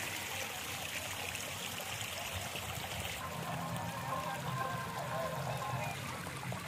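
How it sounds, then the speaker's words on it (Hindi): A freshwater spring in rocky Balochistan terrain flows in a steady, continuous babble and trickle, close by and unbroken throughout, with no voices over it. "साफ पानी का चश्मा, मीठे पानी का चश्मा है।"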